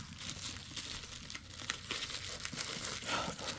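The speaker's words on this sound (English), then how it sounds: "I think I can just rip it open." Cardboard and plastic wrapping on a Diansheng puzzle cube box being ripped open by hand, a steady close crinkling and tearing that runs throughout without pause.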